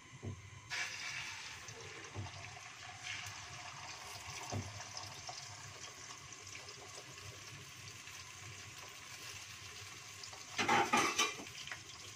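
Egg frying in hot oil for a crispy egg dish, a soft continuous sizzle with occasional light scrapes and clinks of a utensil in the pan, then a brief louder burst of crackling near the end.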